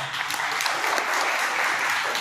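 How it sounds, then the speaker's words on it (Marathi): Brief burst of audience applause for children and their parents at a gathering, a dense, steady clapping roar filling the short span, fairly loud and close. "स्वतःसाठी लेकरांनी आणि पालकांनी त्या लेकरांसाठी टाळ्या वाजवा"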